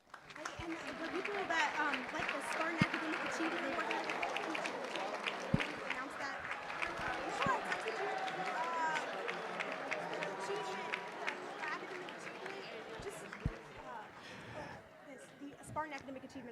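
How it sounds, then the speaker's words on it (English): Student athletes applaud at a university awards ceremony, a dense, sustained wash of clapping and crowd noise that fills the hall for about fifteen seconds before tapering off. "take a look around, and give yourself one heck of an applause"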